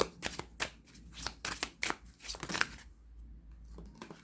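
Oracle cards are shuffled by hand for a pyramid spread: a quick series of close, crisp riffling and slapping bursts of uneven rhythm, then a quieter stretch near the end, with no talking.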